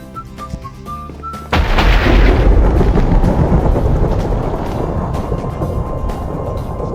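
A Minecraft thunderstorm breaks in with a sudden loud thunderclap that cuts across soft game tones, then rolls into a long, heavy rumble that slowly fades while rain-like noise lingers.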